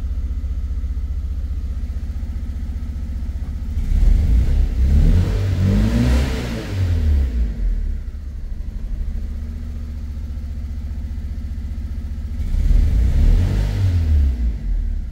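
A Fiat Punto 1.2 petrol engine idling with an uneven, lumpy rumble, surging twice in rough revs before settling back to a low, unsteady idle.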